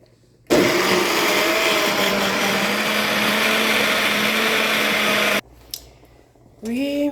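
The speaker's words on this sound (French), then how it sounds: "Et je vais mixer." A kitchen blender whirs loudly and steadily for about five seconds, blending a red marinade with water, then stops, leaving a soft clatter and a brief voice.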